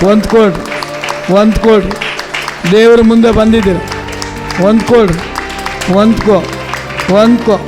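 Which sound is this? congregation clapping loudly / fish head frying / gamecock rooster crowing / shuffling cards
congregation clapping loudly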